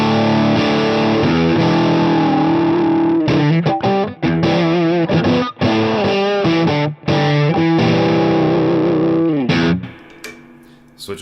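Distorted electric guitar played through a Fat Foot Thallium 81 distortion pedal on a split-coil pickup with gain and tone at noon; loud sustained chords and bent lead notes with brief pauses, fading out at the end.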